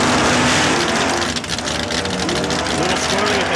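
A loud 1967 Mercury Comet drag racing engine roars close by at high revs at Saskatchewan International Raceway, a dense continuous growl with a voice mixed in.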